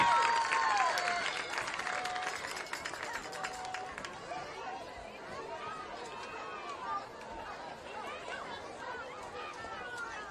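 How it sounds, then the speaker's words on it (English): At a Gosnell High School versus Rivercrest varsity football game, fans applaud and cheer for the Lady Pirate cheerleading squad. Crowd noise rises at first, then eases into a chattering hum with whistles and distant calls. "how about a big round of applause for the Lady Pirate Cheerleading Squad?"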